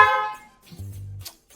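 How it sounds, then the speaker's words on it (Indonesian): A short Piaa Slender car horn beep, then a second, lower honk held for about half a second, both close and clear against silence. "Suara klakson Pia Slenderhorn"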